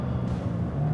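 A McLaren 570S sports car accelerates, its engine giving a loud, rising growl close by that climbs sharply in pitch toward the end of the short burst.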